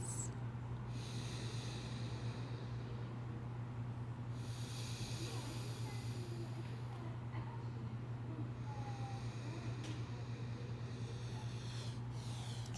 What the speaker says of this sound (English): let's take 2 more slow breaths